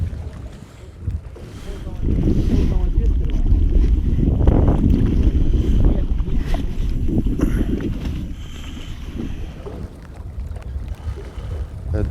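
Strong wind buffets a fishing boat on open water on a rainy day, a loud, close rumbling roar of gusts hitting the microphone that builds heavily in the middle and eases toward the end.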